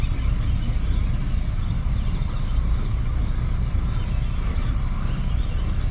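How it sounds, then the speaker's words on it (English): Cars drive by outdoors at sunset, giving a continuous low traffic rumble and road noise with no clear individual pass. "So y'all hearing cars go by."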